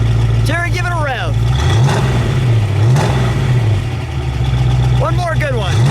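Close and loud, a 1968 Ford Shelby Mustang GT350 302 V8 with a 4-speed rises from idle into a single rev, climbs and drops back, then settles into a steady burble. People talk over it at the start and end.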